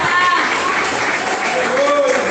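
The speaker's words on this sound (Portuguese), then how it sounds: "Pode glorificar o nome do Rei Jesus com palmas." Church congregation clapping to glorify Jesus during a sermon, a loud continuous wash of applause, with voices carrying through it.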